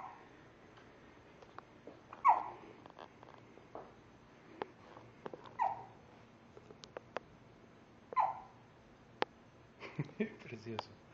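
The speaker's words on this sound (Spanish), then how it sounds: "¿Estás con hipo?" A baby hiccups, with three short, soft hiccups spaced a few seconds apart in a quiet room and faint rustling between them.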